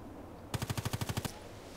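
Rapid automatic gunfire from a shooter video game, about ten evenly spaced shots in a quick burst lasting under a second, fairly loud and clear with no talking over it.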